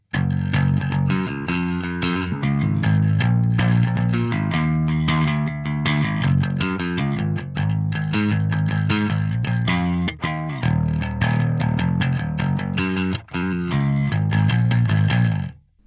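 A 1970s Ibanez 2365b jazz bass is picked with both pickups on, giving a steady, driving bass line with a distorted, effects-laden edge that plays close and loud for the whole stretch, stopping abruptly at the end.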